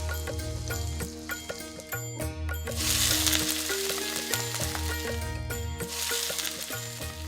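Spice mixture poured into hot oil in a home kitchen for a Mymensingh-style prawn dish with taro stems, bursting into loud sizzling frying that swells and fades twice over steady background music.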